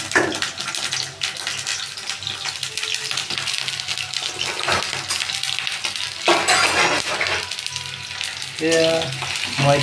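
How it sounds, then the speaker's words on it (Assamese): Sliced onion and green chilli fry together in a pan, giving a continuous close sizzle with occasional stirring and clinks. "মই এতিয়া পিঁয়াজ আৰু জলকীয়া একেলগে দি লৈছোঁ।"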